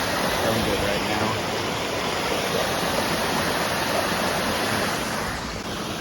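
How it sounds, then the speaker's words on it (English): Glory Hole Falls pours through a hole in the rock, giving a loud, steady broadband roar of falling water that holds unbroken throughout, close and constant, with no voices over it. "coming underneath so we can see the water flowing through"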